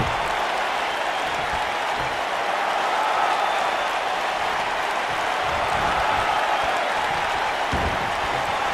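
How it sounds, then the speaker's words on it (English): A WWE 2K19 video game arena crowd roars and applauds in a dense, continuous wash of noise, loud and sustained throughout without clear talk. "by the sound of this crowd, I think they're getting what they wanted"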